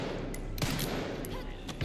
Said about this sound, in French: Oh Seigneur, je rate toutes mes balles